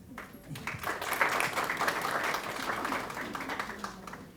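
Sustained audience applause filling a conference hall, a steady wash of many hands clapping together at moderate loudness for several seconds without letting up.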